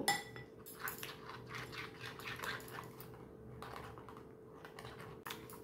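A batter of flour and salt for chicken mince egg devils being mixed by hand in a bowl, a quiet, rapid, uneven clicking and tapping of stirring.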